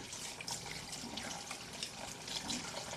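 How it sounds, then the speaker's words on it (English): Cooked noodles for Korean janchi guksu rinsed under running cold tap water in a sink, a steady close splashing wash with no speech. "Rinse in the cold water."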